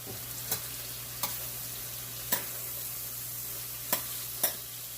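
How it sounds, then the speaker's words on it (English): Onions sautéing in about three tablespoons of cooking oil for a family Sunday dinner give a steady, low sizzle, broken by a handful of sharp stirring clicks spaced irregularly across the stretch, with no talking. "I'm going to put about another 3 tablespoons of cooking oil in there to get my onions sauteed."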